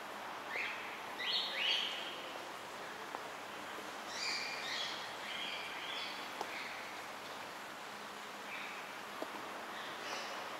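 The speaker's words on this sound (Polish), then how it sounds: "słyszymy już papugi." Parrots call inside a palm house, scattered squawks and chirps at moderate distance over a soft hum of the glasshouse interior, with a few louder bursts early on.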